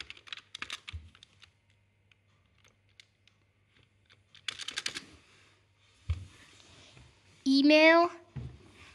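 Scattered bursts of computer keyboard typing at a terminal, close and fairly quiet, separated by pauses with a person speaking in between.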